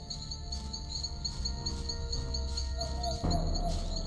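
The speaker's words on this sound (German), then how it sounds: "Ich hab doch Summen gehört." Steady insect-like buzzing of a bee in the game Gothic, a continuous drone with high whining tones layered over ambient game background, holding level throughout with a slight swell near the end.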